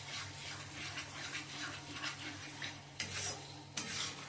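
Red chilli powder frying in oil is stirred steadily for a shahi paneer base, a soft continuous sizzle with gentle scraping strokes and two sharper clinks of the spoon near the end.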